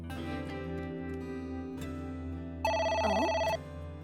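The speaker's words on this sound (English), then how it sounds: "It's the phone." A telephone rings in the video game AI: The Somnium Files, a single burst of electronic bell ringing about a second long that cuts in loudly over a quiet sustained music bed.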